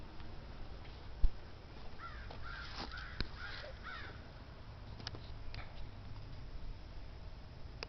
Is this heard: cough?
no